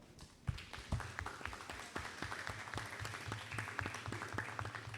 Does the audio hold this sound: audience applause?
yes